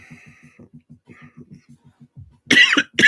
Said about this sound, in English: There's some tickly cough happening.